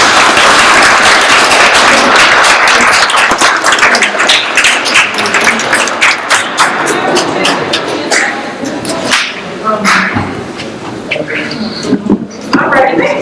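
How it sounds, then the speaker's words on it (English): An audience claps loudly at a panel event, dense applause close up that thins into scattered claps toward the end, with voices briefly audible. "Can we get a round of applause for her?"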